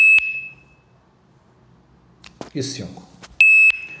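A barcode scanner in an inventory app beeps twice while items are scanned: one sharp, bright electronic beep, a short stretch of talking, then a second loud beep.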